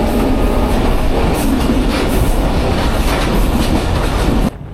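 Rohanpur commuter train running on rails between Ishwardi, Rajshahi and Rohanpur, heard from inside: a loud, steady rumble with rhythmic clickety-clack of wheels over rail joints that cuts off abruptly near the end.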